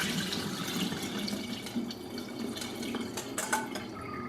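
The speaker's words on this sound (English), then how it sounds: "rinse it under cold water" Cold tap water runs steadily over sushi rice in a bowl, a continuous close splashing and trickling with small drips and stirring sloshes, no talking.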